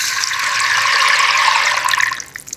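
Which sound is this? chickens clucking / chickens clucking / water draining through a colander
water draining through a colander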